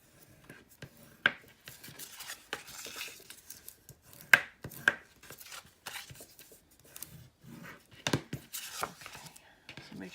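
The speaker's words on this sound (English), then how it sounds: "Let me go ahead and fold and burnish this tab before." Paper tab on a mini album being folded and rubbed flat by hand, heard as soft scraping and rubbing strokes in quiet close bursts with a few sharper taps.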